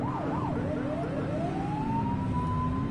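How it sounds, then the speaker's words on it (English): Police car siren in a patrol video game, a loud wailing tone sweeping rapidly up and down before settling into a steady rising whine, continuous and close. "You're only meant to use the siren in emergencies."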